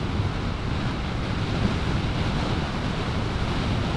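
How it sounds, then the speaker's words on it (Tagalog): Strong wind roars steadily and loudly in Ilocos Norte, a dense, unbroken rush with heavy low buffeting against the microphone and no voices. "So dito pala sa Ilocos guys, sobrang lakas ng hangin."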